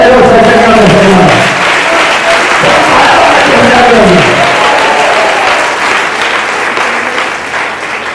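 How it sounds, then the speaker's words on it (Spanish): A church congregation breaks into loud applause, starting under the fading voice of a preacher and continuing as a dense, steady clapping that slowly tapers. "Un aplauso poderoso al Señor del Señor."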